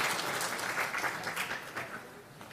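An audience at a Democratic Party emergency assembly at the National Assembly claps to welcome the next speaker, brief faint applause at a distance that tapers off quickly.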